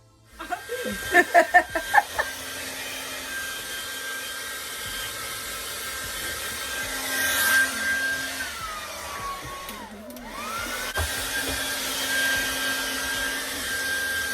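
A hair dryer drying the roots of starter locs blows with a steady whooshing hum, its pitch dipping briefly midway, after a few sharp bursts at the start; no talking.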